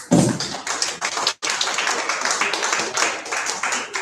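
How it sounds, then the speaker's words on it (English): An audience at a Rotary district seminar claps for its leaders, a brisk burst of close hand claps with a short break partway through before the clapping resumes. "can we give them a round of applause?"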